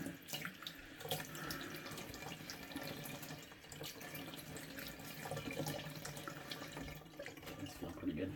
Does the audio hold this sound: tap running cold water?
yes